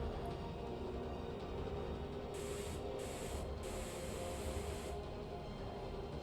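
Spray painting a ship in Space Engineers: a bright hissing spray comes in three bursts over a steady low mechanical hum, and the last burst runs longer than the first two.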